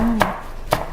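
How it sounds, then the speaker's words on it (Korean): Two crisp knife strokes slice through garlic chives against a cutting board, close and distinct, about half a second apart. "다음에 해야 될 일은 이제 부추를 썰 거예요."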